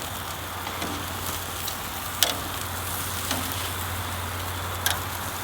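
Peppers frying on a grill give a steady close sizzle with soft crackles and a few sharp pops, a low hum running underneath throughout, no voices.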